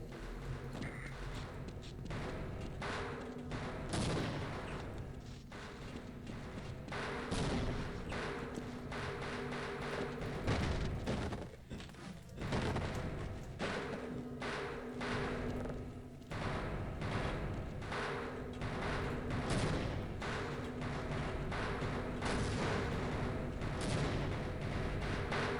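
Half-Life combat with a barrage of explosions and gunfire: repeated heavy booms and sharp shots in irregular bursts, dense and continuous throughout with no talking.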